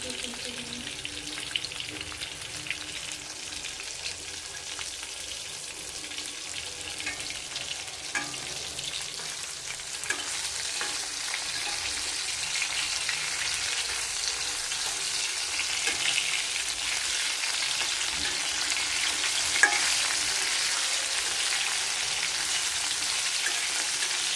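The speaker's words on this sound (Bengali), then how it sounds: "আমার মাছ ভাজা হয়ে গেছে" Pangas fish frying in a pan, a continuous soft hiss and crackle of hot oil holding steady throughout, with a few faint clinks and no talk.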